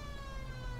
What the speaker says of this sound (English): I have my siren on.